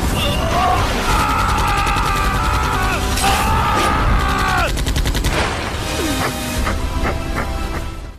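Loud rapid bursts of automatic gunfire crackle amid harsh tonal blasts and a chaotic, dense mix of noise in Dragon Raja, fired wildly into water.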